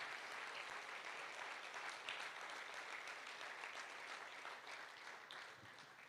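A church congregation applauds in praise, a steady, dense wash of many hands clapping for about six seconds, fairly close and loud, tapering slightly at the end, with no talk over it.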